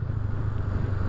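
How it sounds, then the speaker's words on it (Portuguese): A vehicle fitted with a loud Roncar aluminium exhaust with an 8-inch outlet, a steady deep droning roar at idle, close and continuous for about a second. "Ai, que barulho. Eu não sei se eu vou aguentar ficar com muito tempo esse escape"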